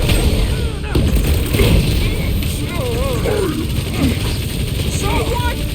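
Gunfire in the video game Marvel's Guardians of the Galaxy, rapid shots and booms mixed under constant character talk and a dense battle soundtrack.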